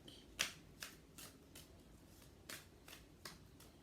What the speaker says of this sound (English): I'm going to do two more shuffles.